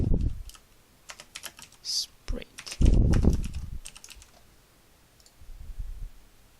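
Code being typed on a computer keyboard during a Unity game development session, heard as scattered bursts of clicky keystrokes with short pauses and some low thumps between them, fairly close.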